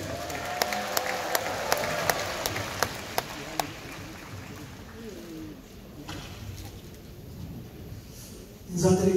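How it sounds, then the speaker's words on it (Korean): A Korean church gathering applauds to welcome a pastor, producing a rough wash of crowd clapping with sharp, evenly spaced claps standing out early on. A voice is heard briefly over the applause. "박수로 맞이하겠습니다."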